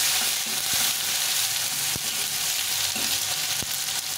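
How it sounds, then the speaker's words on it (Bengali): Tomatoes frying in a pan, a loud, continuous close sizzle with a few sharp pops and stirring clicks. "তো টমেটোটা একটু ভাজা ভাজা হয়ে গেছে"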